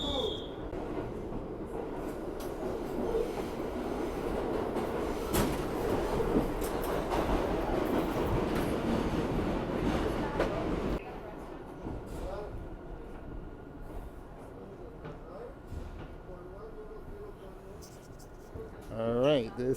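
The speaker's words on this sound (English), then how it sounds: "We are now on the Bronx-bound 6th train, leaving Brooklyn Bridge City Hall." Bronx-bound New York subway 6 train leaving Brooklyn Bridge–City Hall toward Canal Street, heard from inside the car as a steady loud rumble and rattle that drops to a quieter roll partway through, with faint voices.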